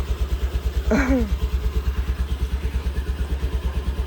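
A small scooter engine idles nearby with a steady, rapid putter, while a brief high-pitched voice-like squeal rises over it early on.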